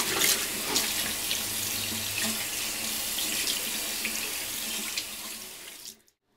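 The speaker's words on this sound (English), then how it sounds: "Wash your hands with warm running water and antibacterial soap for 20 seconds." Warm tap water runs steadily into a sink as hands are washed under it, a close, continuous splashing rush that cuts off abruptly near the end.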